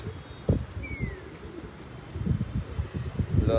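Pigeons on a rooftop loft give soft, low, intermittent coos, close by, mixed with a few dull thumps and a brief faint whistle.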